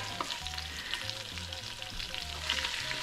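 Curry powder and turmeric fry in a pan with ginger for a chicken curry, giving a soft, steady sizzle with light stirring scrapes and no talking.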